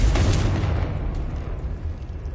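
A Confringo explosion spell bursts in the Hogwarts Legacy video game: a loud, deep boom at the start that rumbles and decays over a couple of seconds.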